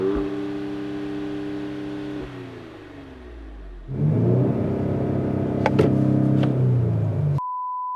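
A Ford Explorer fitted with a cold air intake, in sport mode, idles with a low steady hum, dips, then revs up into a louder sustained engine drone before cutting off to a single electronic tone.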